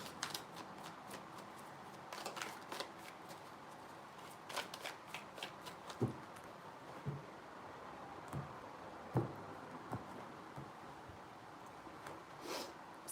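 Tarot cards are shuffled repeatedly in quick riffling bursts with soft taps and rustles between them, close and fairly quiet, no talking.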